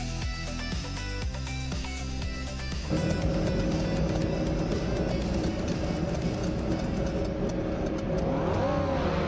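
A classic 1968 Porsche 909 Bergspider engine in a racing video game, revving hard at the race start on Grindelwald Long Track, a loud continuous roar with rising pitch toward the end, no talk.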